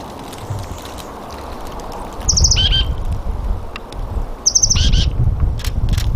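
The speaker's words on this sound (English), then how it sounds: "That is an oak titmouse." An oak titmouse calls twice in a natural sanctuary setting, each call a quick burst of high, buzzy chattering notes standing out over steady low background rumble and faint distant bird chirps.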